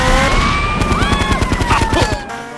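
Rapid automatic gunfire fills a shootout in GTA Liberty City Stories, loud close bursts of shots over a wailing police siren, with someone talking at the same time.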